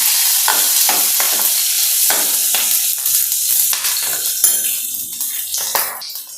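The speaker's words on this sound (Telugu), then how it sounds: "తర్వాత కట్ చేసి పెట్టుకున్న పచ్చిమిరపకాయలు, కరివేపాకు, ఇవన్నీ వేయించుకోవాలి." Green chillies and curry leaves frying with cumin and mustard seeds in hot oil, a loud close crackling sizzle with occasional spatula stirs, no speech.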